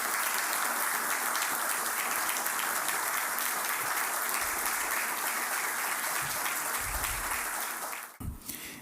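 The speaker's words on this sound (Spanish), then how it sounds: "Me refiero al doctor José Augusto Vega Inver, al que pido un aplauso de reconocimiento." Audience applause at a banquet at the Hotel Matún honoring doctor José Augusto Vega Inver, a dense, steady roar of many clapping hands that fills the room and then breaks off abruptly near the end.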